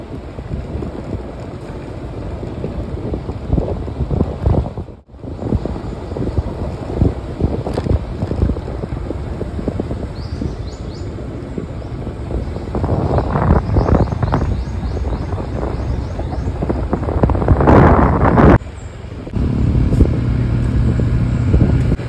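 Motorcycle crawling slowly along a rough, dangerous rural road, engine rumble mixed with heavy wind buffeting and bumps, rising louder in the second half with a brief dropout near the middle.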